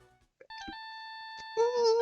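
In the Justice for All video game, a phone rings with a steady electronic beeping tone that holds for about a second, then a voice cuts in over it.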